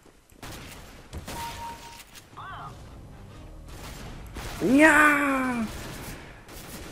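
Counter-Strike: Global Offensive gameplay with a few sharp bursts of gunfire among game sounds, followed by a loud pitched groan-like game effect, while someone speaks briefly.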